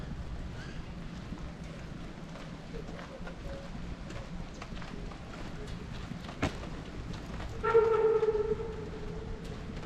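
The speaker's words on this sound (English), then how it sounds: "You can hear that train whistle from down there at the depot." A train whistle sounds from the depot below as a faint, distant tonal blast near the end, heard over soft wind and background noise.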